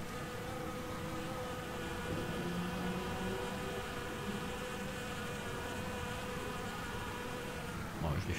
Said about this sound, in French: On peut voir une petite abeille domestique butiner donc cette monnaie du pape.